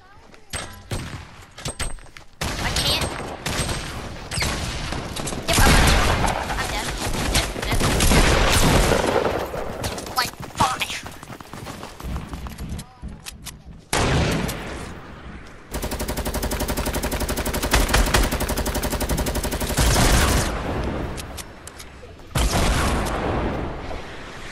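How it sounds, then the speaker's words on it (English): Rapid gunfire from a Fortnite match at Paradise Palms, including sniper rifle shots, crackles loudly and almost nonstop over dense game noise, with a sustained heavy burst near the end and voices talking throughout. "I'm sniping them"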